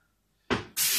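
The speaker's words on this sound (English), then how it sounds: "Oh, you hear that sizzling?" A sudden burst of sizzling as broccoli hits hot frying oil, starting loud and harsh, then a second, brighter hiss of frying that holds steady.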